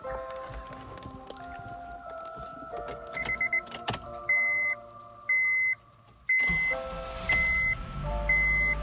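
A rebuilt Honda K24 engine in a CR-V cranks and catches, with a car's electronic chimes and beeps repeating at intervals alongside a low rumble that rises near the end.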